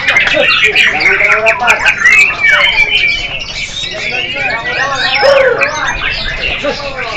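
Many contest songbirds chirp and trill at once in a dense, busy chorus at a bird-singing tournament in Singkil, Indonesia, with voices of a crowd faintly mixed in.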